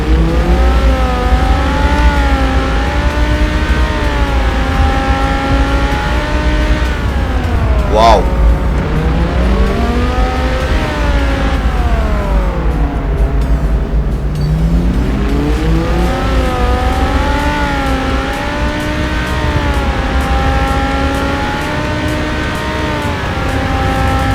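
A Lamborghini Huracán Performante with a tuned exhaust drives at high speed in the City Car Driving game, its loud exhaust note rising and falling through repeated gear sweeps while a voice talks over it.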